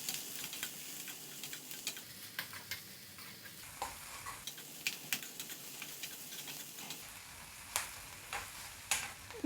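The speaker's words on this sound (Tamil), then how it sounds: "இப்போ இது நல்லா வதக்கிக்கலாம்." Spring onion sautéed in a pan for paneer fried rice: soft steady sizzling with a spatula scraping and stirring in irregular strokes, fairly quiet and close, no voices.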